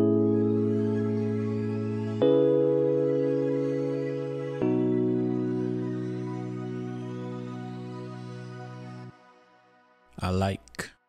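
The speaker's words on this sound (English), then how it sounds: "So that sound combined with the electric piano sounds like this." Alchemy synth layered with a classic electric piano playing sustained chords in an Afrobeats-style beat, changing chord about every two and a half seconds, then a short separate keyboard phrase near the end.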